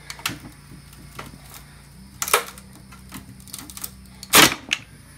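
Screws tear out of quarter-inch plywood sheathed in one layer of fiberglass cloth during a destructive stress test, giving sharp irregular cracks and creaks against a quiet room, with two loud snaps standing out.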